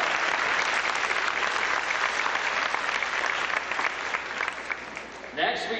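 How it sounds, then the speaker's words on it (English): Sustained applause from a high school band Christmas concert audience, loud and steady for several seconds before tapering off near the end. "please give them a round of applause."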